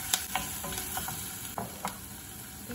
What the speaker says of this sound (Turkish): 1 yemek kaşığı domates salçası, 1-2 dakika salçayı da kavuruyorum